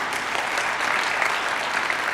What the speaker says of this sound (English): may we continue to give them a round of applause